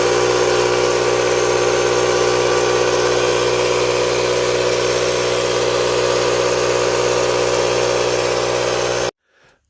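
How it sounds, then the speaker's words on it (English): An air compressor drones loudly and steadily while inflating a plugged car tire, a constant mechanical hum that cuts off abruptly near the end, followed by a brief quiet moment. "And the next step is to air up the tire to see if it holds."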